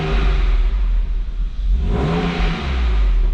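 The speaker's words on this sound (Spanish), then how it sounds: "Vamos a acelerarlo un poquito." BMW Z4 Alpina roadster engine revving up from a steady idle rumble into a rising, throaty surge, close and loud with no talking.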